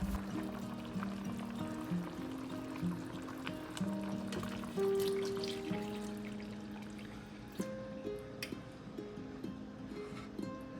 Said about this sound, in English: it's time to add the creamy akwu sauce.